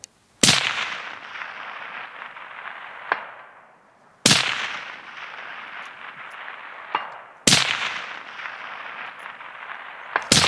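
Three loud, sharp shots from a lightweight K95 rifle fired in a string outdoors, spaced a few seconds apart, each with a long ringing decay and a faint metallic click between shots.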